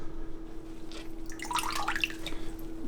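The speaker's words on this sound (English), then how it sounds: "I'm squeezing the glove and water is coming out" Water drips and trickles out of a winter glove as it is squeezed, a short patter of small splashes over a steady low hum, fairly faint and close.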